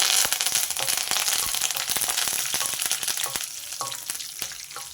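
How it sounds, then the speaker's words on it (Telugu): Curry leaves and garlic for a tempering sizzle hard in hot oil, a dense crackle of rapid spitting pops that eases slightly toward the end, close and loud with no talking. "ఈ వెల్లుల్లిపాయలు తాలింపు వేగిపోయిందండి"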